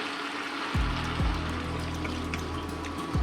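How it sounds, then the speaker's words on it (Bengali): Broth poured into a hilsa, papaya and potato curry in a pot gives a close, steady splashing pour with a few gurgling bursts, and no one speaks. "এখন ঝোল দিয়ে দেব"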